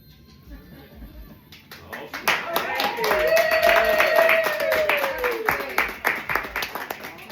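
Audience clapping at an intimate music Q&A session, starting sparse then swelling into rhythmic clapping while voices cheer and a singer's held vocal line rises over it.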